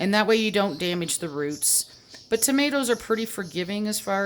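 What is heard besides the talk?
No distinct noise like a dog, phone or traffic.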